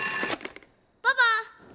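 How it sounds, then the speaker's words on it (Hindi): A home telephone rings with a short bright electronic trill, clear and close, right after a voice speaks. "अरे पापा का फोन"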